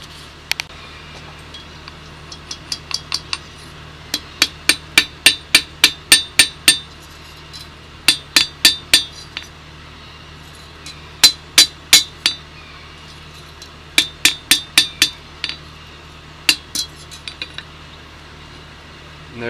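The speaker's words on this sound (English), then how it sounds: "We can also do it with our hammer." A hammer forges a decorative curl on a hand-made flint striker, ringing in quick bursts of sharp, bright metallic blows separated by short pauses, close and loud, with no voices.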